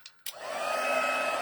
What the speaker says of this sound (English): I'm just drawing it with my heat tool here